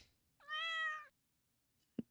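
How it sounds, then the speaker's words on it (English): A single clear cat meow in the Stardew Valley Expanded video game, a bright drawn-out call lasting about half a second, followed after a pause by a short soft knock. "You see this cat here?"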